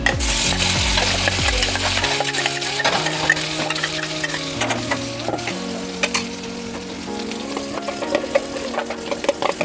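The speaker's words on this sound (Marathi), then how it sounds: "आता आपण 1 चम्मच तेल टाकलेलं आहे, त्याच्यामध्येच आपण मसाला टाकून घ्यायचा आहे।" Ground masala paste frying in a spoonful of oil, a steady loud crackling sizzle with shifting low hum tones underneath, close and continuous without talk.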